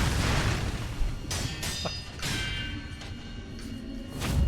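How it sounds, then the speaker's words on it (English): Firecracker blast in the video game Sekiro: Shadows Die Twice, a loud booming burst with crackling sharp pops over a dense game soundscape, with several impacts in quick succession. "Firecracker!"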